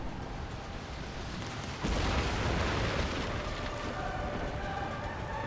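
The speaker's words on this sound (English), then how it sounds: "here come more rockets" Rockets fired during a naval battle in Empire: Total War, a sudden loud rushing burst that swells over a continuous rumble of gunfire and battle noise.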